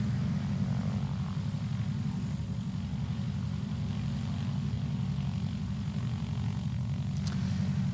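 A Super Cub light aircraft drones steadily at a bush-plane STOL competition, a low continuous engine hum held at a constant level throughout, with no voices.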